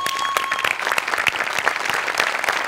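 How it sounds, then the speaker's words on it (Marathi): An audience at a Marathi comedy stage show applauds loudly for ISRO's scientists, dense rapid clapping that stays strong and steady throughout, with no talking over it. "एकदा जोरदार टाळ्या सगळ्यांसाठी."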